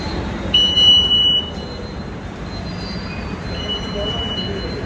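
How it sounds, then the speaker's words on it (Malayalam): Rumbling station ambience of a train idling at a platform at Trivandrum Central railway station, with a brief high-pitched metallic squeal early on and steady low mechanical drone throughout. "നമ്മുടെ ട്രെയിൻ കിടക്കുന്നു"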